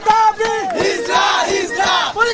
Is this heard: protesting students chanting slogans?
yes